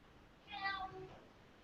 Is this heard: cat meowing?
yes